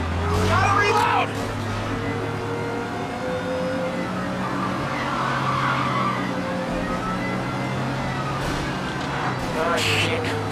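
Police sirens wail through a car chase in Mafia Definitive Edition, steady over a rumbling engine and tire noise, with shouting voices and gunfire bursts in the mix.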